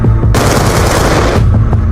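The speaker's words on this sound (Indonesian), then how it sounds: "Raja Pedut kemudian menembaki pintu kamar Jenderal Nasution." A rapid burst of gunfire sprays a bedroom door in a school stage drama, loud, dense shots in a sustained volley between brief quieter moments, with no talking.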